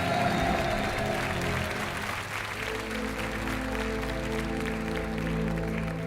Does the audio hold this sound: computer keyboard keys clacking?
no